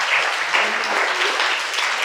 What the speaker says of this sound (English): Let's give the Mayor one more round of applause